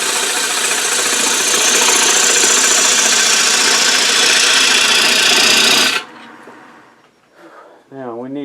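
A wood lathe runs loud and steady as a gouge makes a clean entry cut into a spinning winged bowl, a harsh continuous rasp that stops abruptly, leaving a quiet tail with a brief voice.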